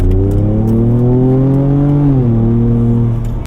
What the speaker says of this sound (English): The exhaust mode, so you have your Baja exhaust.